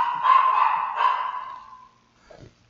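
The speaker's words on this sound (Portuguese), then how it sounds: "Só esperar o cachorro aqui passar." A dog outside gives a drawn-out, strained bark that fades over about two seconds, followed by a brief quieter yelp. It is fairly loud and stands alone without talk.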